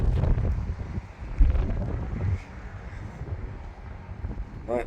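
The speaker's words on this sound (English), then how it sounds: "And it is super windy." Strong wind at a Kansas rest area park thumps and rumbles against the microphone in low gusts, loudest early on, easing into a softer steady buffeting.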